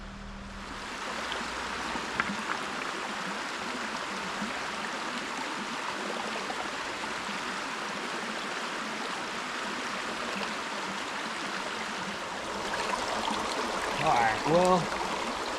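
Creek rapids rush just behind a tent at a gold prospecting campsite, a constant broad watery roar filling the scene, with someone speaking briefly near the end.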